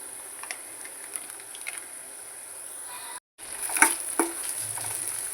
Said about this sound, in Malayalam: അപ്പോൾ നമ്മൾ ചേർത്ത പൊടിയൊക്കെ നന്നായിട്ടൊന്ന് വഴറ്റി എടുത്തിട്ടുണ്ട്.